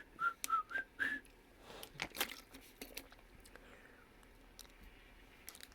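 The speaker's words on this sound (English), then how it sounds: "Whistle while you work." A person whistles four short, clear rising notes in quick succession, fairly quiet and close, followed by soft crinkling and rustling sounds in an otherwise hushed room.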